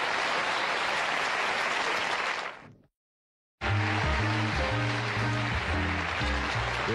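A TV studio audience on a late-night talk show with Johnny Carson bursts into loud, dense applause that fades out, then a short silence before music and a band start up.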